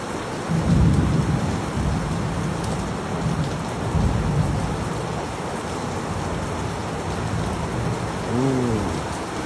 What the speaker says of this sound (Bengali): বৃষ্টি বৃষ্টি দেখা যায়, খুব সুন্দর সুন্দর দেখা যায়